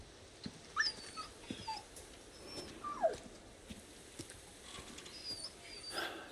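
A dog in the Resident Evil 4 Remake video game whimpers and whines in several short, faint, high yelps spread across the scene, with quiet ambient game noise beneath.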